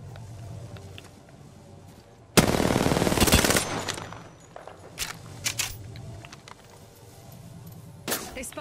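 Automatic gunfire bursts out loud and dense in a battle royale video game shootout, followed by scattered single shots, clicks and footsteps.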